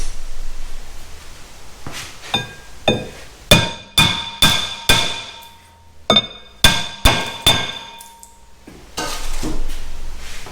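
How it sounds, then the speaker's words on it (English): A hammer strikes the back of a Ford Escape brake rotor during a brake job, producing a series of about a dozen sharp metallic clangs with a ringing tone, unevenly spaced and close by, with no talk. "Smack the back side with a hammer"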